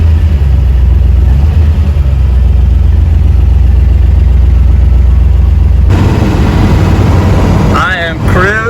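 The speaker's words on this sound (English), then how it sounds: "I am cruising in fourth gear" A 1967 Shelby GT500 cruising in fourth gear gives off a loud, steady, low engine rumble with road noise throughout, and a voice starts speaking over it near the end.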